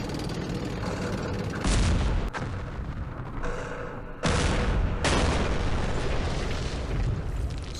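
Tank gunfire in the wargame Campaign Series Middle East comes as several loud, close cannon blasts. Each one is sharp and booming and trails into a rumbling roar, with short quieter gaps between the shots.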